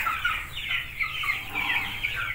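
Black Australorp chickens cluck steadily in a poultry shed, a close, busy chorus of overlapping calls with no talking.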